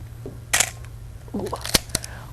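A single-lens reflex camera shutter release firing, a couple of sharp mechanical clicks from the flipping mirror and shutter over a low steady hum.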